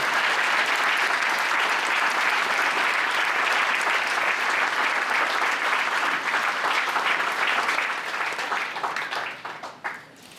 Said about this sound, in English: Can we please give a round of applause to all these players?